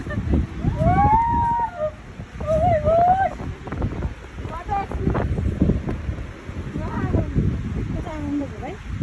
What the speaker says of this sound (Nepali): हावा यस्तो मजा चल्यो